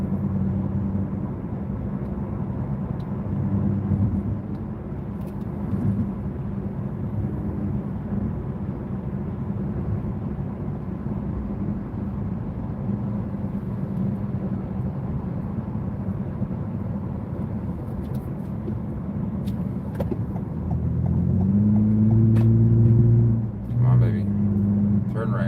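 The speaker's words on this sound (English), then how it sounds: "Just 3 lanes of just high volume traffic." Heavy, high-volume traffic on a three-lane highway makes a continuous rumbling roar of passing cars that swells louder near the end, heard under ongoing conversation.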